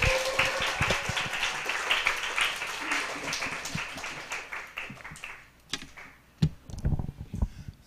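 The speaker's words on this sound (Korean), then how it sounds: "우리 김정원 목사님 나오셔서 기도불이라는 말씀 전해주러 나오실 때 큰 박수로 환영해 주시기 바랍니다." A church youth retreat audience applauds loudly to welcome a pastor, dense sustained clapping that thins out and stops with a few scattered claps at the end.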